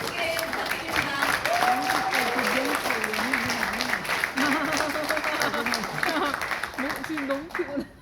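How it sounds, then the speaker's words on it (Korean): A lecture crowd claps at length to welcome Chairman Kim Kyung-soo, a full, sustained roar of hands under a speaker's voice, easing off only in the final moment. "박수 크게 부탁드립니다"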